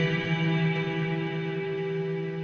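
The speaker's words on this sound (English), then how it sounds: "And then I put it just through like an amp simulator, a bit of echo and reverb." Electric guitar strums E minor chords through an amp simulator with echo and reverb, producing a sustained, washy harmonic drone that slowly fades, with no one talking.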